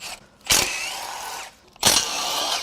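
Two short bursts from a power tool loosening exhaust manifold bolts on a Ford Mustang 5.0 Coyote engine during teardown, each whirring for about a second with a pause between.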